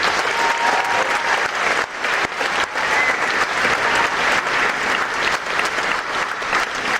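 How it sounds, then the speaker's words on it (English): An audience applauds recognized students at an 8th grade advancement ceremony, a continuous, full round of clapping filling the hall steadily for the whole stretch. "Let's have another round of applause for the students recognized this evening"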